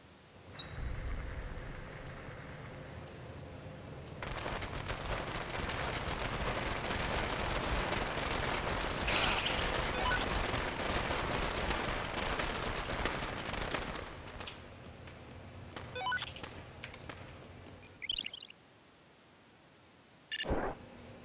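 Firecrackers going off in the video game Dead Rising 2, a long dense crackling barrage of rapid pops and bangs that fills most of the stretch, then thins to scattered cracks before stopping.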